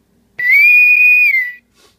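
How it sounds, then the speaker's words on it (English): A boatswain whistle call sounds from a Star Trek original series style wall-mount intercom, a single steady shrill tone held about a second and then cut off, loud and close in an otherwise quiet room. "press that button and get the captain's whistle"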